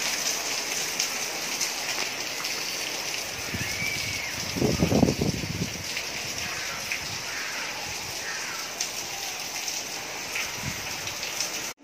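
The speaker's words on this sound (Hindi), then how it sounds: "देखिए खूब जोरों की बारिश हो रही है।" Heavy rain pours steadily in a dense, even hiss, with a brief louder rumble midway and no voices.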